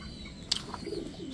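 Pigeons in a coop giving a brief soft coo with a faint flutter, quiet and close, in a short burst.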